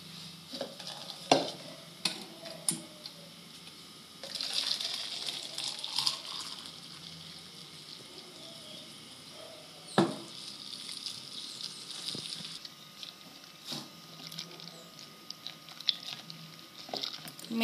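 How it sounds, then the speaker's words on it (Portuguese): Grated soap being stirred into a litre of hot water to dissolve, soft intermittent scraping and swishing with several sharp clinks of the utensil against the container, quiet and close, no talking. "Mexe bastante para que ele dissolva."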